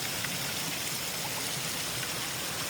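An icy, crystal-clear mountain stream runs steadily, a dense, even rush of water with no talk over it and no change in level.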